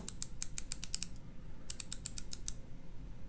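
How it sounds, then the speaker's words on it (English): Rotating 60-click bezel on a Luminox Bear Grylls survival watch with sapphire crystal, giving two quick runs of crisp, evenly spaced ratcheting clicks, close and clear, separated by a short pause, over faint background hiss. "We take a listen to the 60-click bezel."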